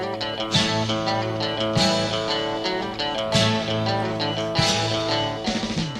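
Electric guitar riff played as a recording, a dense repeating figure over steady accompaniment with recurring bright accents, loud and continuous with no talking.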